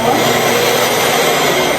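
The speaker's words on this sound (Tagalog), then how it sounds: "Mag-vacuum ako guys kasi tapos na tayo dyan sa no." A household vacuum cleaner runs steadily and close by in a home being cleaned before a week-long trip, giving a constant broadband whoosh with no pauses or talk.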